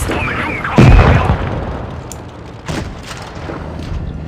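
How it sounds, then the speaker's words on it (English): A tank cannon blasts once with a loud, booming report in a video game, fired at a KV-3 tank, followed by a quieter second shot and ongoing battle rumble. "So we're like constantly firing shells at this KV-3"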